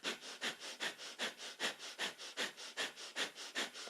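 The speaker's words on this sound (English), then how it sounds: "breath of fire is our panting breath through the nose" Breath of fire in a kundalini yoga practice: rapid, rhythmic panting through the nose, about four sharp breaths per second, close and steady, with no talking.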